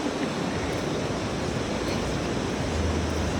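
Ocean surf at Duli Beach, a surfing beach in Palawan, makes a constant full wash of breaking waves, broad and unbroken, with no voices.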